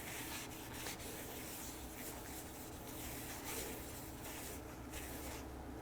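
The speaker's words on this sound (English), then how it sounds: "let's just see what happens when we apply a finish to this" Finish being rubbed onto a turned wooden bowl sanded to 600 grit, a faint continuous rubbing and wiping with soft irregular strokes.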